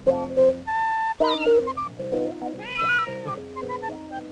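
A Siamese cat meows repeatedly in long, wavering, tonal cries, fairly close, with several overlapping calls and short pauses between them.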